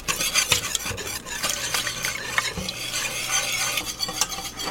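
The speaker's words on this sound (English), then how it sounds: "And you gotta keep stirring." A spoon steadily stirs a thickening cream sauce made with half and half in a hot pan, a continuous close scraping and swishing over a soft sizzle, with no talking.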